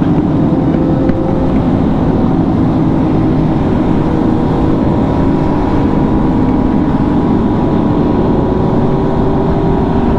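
A steady, loud engine drone with a low rumbling exhaust note holds constant throughout, with no voices.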